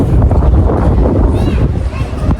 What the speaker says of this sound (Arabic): بس هوا في نفس الوقت.